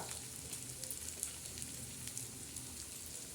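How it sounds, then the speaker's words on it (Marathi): Crushed ginger sautéing in a pan with cumin and garlic, giving a quiet, steady frying sizzle with faint crackles throughout. "अद्रक ठेसलेलं तर हे चांगलं असं परतून घेणार आहोत"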